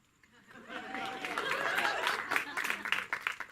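Comedy-show audience at a small outdoor picnic event applauding, a dense wash of clapping swelling up from near silence and mixed with chatter and a few chuckles.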